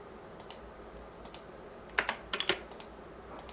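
Computer mouse clicks while drafting in ZWCAD software: sharp, close, isolated clicks, some falling in quick pairs or short clusters, over a quiet room hum with no talking.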